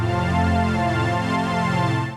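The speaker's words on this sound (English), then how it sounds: "on a different layer, I'm going to be running my harp through the Boss synth pedal." A harp fed through a Boss synth pedal gives a thick, buzzy sustained tone with a wavering low end, loud and continuous before a quick fade at the close.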